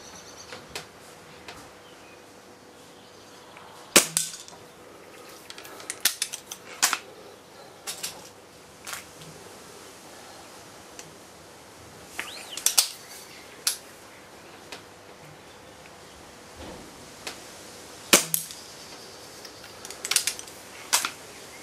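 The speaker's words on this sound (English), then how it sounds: "So that's the Paul Short gun. Like I say, Stage 3 tune" An HW 97 air rifle with a Stage 3 tune fires several times, each shot a sharp, crisp, snappy crack with a quick mechanical clack, spaced irregularly over a quiet background.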